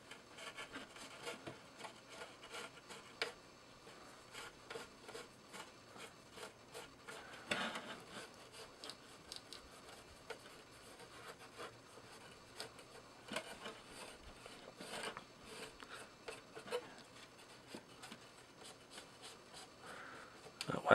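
RC truck headlight lenses being wiped by hand on an old Trailfinder 2, a faint close rubbing and scratching that repeats in short strokes, with a few louder scrapes and no talking.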